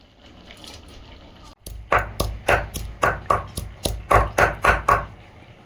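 A knife chops thankuni (Indian pennywort) leaves on a board in about a dozen crisp, evenly spaced strokes, close and clear, after a quiet start.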